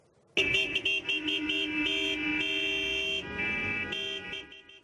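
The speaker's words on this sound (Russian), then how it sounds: "На улицах Гюмри сигналят машины" Car horns blare in the streets of Gyumri, several overlapping honks and long sustained blasts layered together, loud and close, with no talking.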